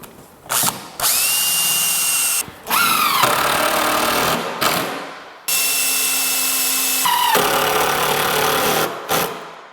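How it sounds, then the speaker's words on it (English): Power drill boring holes through a wooden cabinet side panel, several loud bursts with short pauses between them, each starting and stopping abruptly, close by with no talking. "I can drill the rest of my holes"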